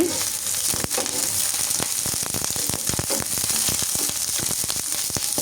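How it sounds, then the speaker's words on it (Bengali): Dried red chillies crackle and sizzle in hot oil on a low flame, a steady dense frying hiss with scattered sharp pops and crisp snaps throughout, close and fairly loud, no voices. "শুকনো মরিচ ভেজে নিচ্ছি"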